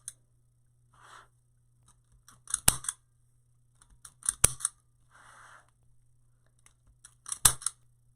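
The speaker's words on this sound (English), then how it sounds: "I'm going to take my zip tie gun now. I'm going to go all the way around here and zip tie these guys in." A handheld zip tie gun cinches and snaps plastic zip ties onto a large wreath board for a petal pop daisy chain snowman wreath, giving three sharp, loud ratcheting snaps spaced a couple of seconds apart with softer rustling handling between them.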